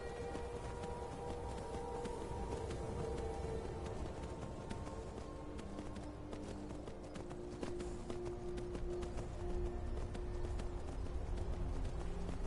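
Rhythmic clip-clop of horse hooves galloping in the video game Skyrim, steady and continuous over a low ambient hum, with no voices.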